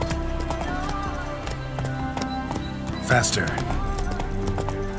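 Roach the horse gallops in The Witcher 3, rhythmic hoofbeats clip-clopping at a fast pace under the game's music, while someone speaks and other game voices sound midway.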